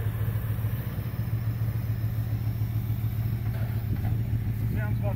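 A Land Rover V8 engine, left sitting in a field for 12 years, idles steadily with a low, even rumble throughout, accompanied by some faint clatter and background noise.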